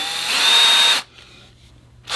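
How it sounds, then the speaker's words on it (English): A power drill fitted with a number six bit runs loud and steady for about a second while drilling holes to be tapped during a Comp Cams roller cam retrofit on an engine, then stops abruptly, with a brief quieter burst returning at the end. "we're going to use the number six drill bit to drill and tap these here"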